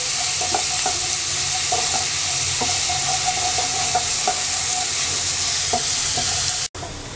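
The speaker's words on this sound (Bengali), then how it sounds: "রসুনটাকে হালকা ভেজে নেব।" Garlic sizzles lightly in a pan with a steady frying hiss, punctuated by occasional scrapes and taps of a stirring utensil, close and continuous before a brief break near the end.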